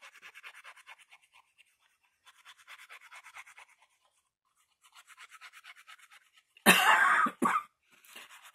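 Soft rhythmic brushing strokes of glue being spread along a page edge are interrupted by two loud, close coughs, one right after the other, before the quiet strokes resume.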